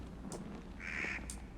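A bird in the horror video game Don't Scream gives a couple of short, harsh calls against a quiet, dark ambient background.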